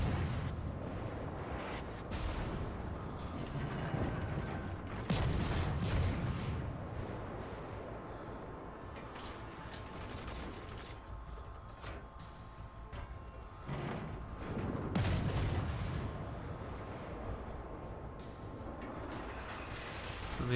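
Naval guns fire from warships in World of Warships: dull, distant booms roll out in two salvos over a constant low rumble of battle, faint overall.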